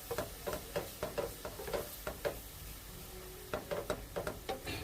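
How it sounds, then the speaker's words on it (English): A spatula scrapes the bottom of a pan while it is being deglazed for shrimp and grits, giving repeated rhythmic scraping strokes over a soft sizzle, close and moderately loud. "I'm going to deglaze the pan, scraping the bottom of the pan."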